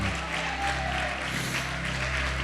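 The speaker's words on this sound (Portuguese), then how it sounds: "Vamos aplaudir bem alto, Senhor Jesus, irmão" A church congregation bursts into loud, sustained applause, a dense, steady wash of many hands clapping together with no pause across the whole moment.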